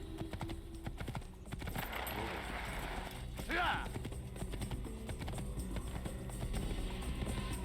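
A horse's hooves clip-clop in a steady trotting rhythm in the Assassin's Creed video game, close and moderately loud, layered over game ambience with voices talking.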